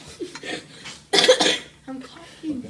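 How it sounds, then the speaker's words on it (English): A few sharp coughs close by, one burst louder than the rest, mixed with short vocal sounds and breaths in a quiet room. "I'm coughing."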